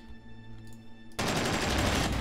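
A Gatling turret in the Space Engineers video game begins firing after a quiet, humming start, turning into a loud, continuous rapid-fire burst of gunfire.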